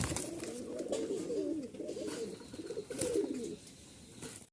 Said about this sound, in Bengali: দুইটা একদম খুবই সুন্দর চমৎকার কবুতর